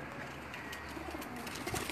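Breeder pigeons coo softly in a rooftop setting, a low steady murmur of several birds with faint background noise throughout and no voices.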